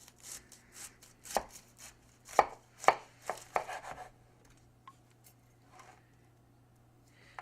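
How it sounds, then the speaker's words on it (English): A knife cuts down through a whole cauliflower head in a few crisp, crunching chops close by, with a short scraping burst in the middle and quiet after. "So what you do is you slice it right down the middle."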